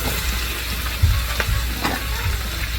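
Mushrooms stir-frying in a pan with salt and pepper for a vegan spinach stir-fry, a continuous close sizzle with occasional stirring scrapes and pops.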